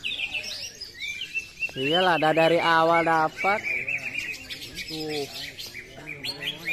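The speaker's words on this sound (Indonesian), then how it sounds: "Enak banget burung." A green leafbird (cucak ijo) sings close and loud, a long run of bright, varied whistles and chirps in rapid phrases with short gaps, while someone speaks briefly over it.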